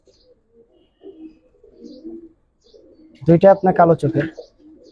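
Giribaz and coloured pigeons coo softly in low, murmuring phrases at close range, then someone speaks briefly over them.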